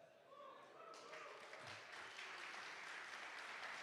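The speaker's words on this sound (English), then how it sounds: "I'll clap for that." Applause from a conference audience at a live-streamed developer event, starting sparse and swelling into steady clapping that continues to the end, with some talk mixed in underneath.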